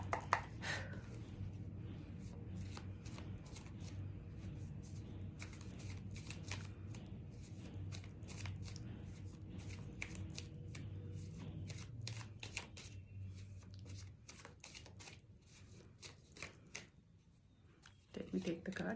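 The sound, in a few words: shuffling tarot cards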